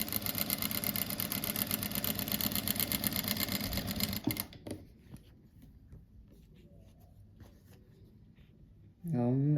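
A sewing machine stitches fabric strips for a rug, running fast and steady for about four seconds with a dense rhythmic whir, then stops. Faint handling noises follow before a short burst of machine running at the end.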